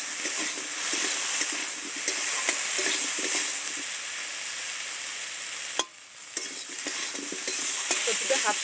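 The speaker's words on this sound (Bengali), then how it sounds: "নেড়ে চেড়ে বেশ সুন্দর করে কচুটা কষে নেব" Taro (kochu) being stirred and fried in a pan, a steady close sizzle broken by repeated scraping strokes of the spatula, with a brief quieter gap partway through.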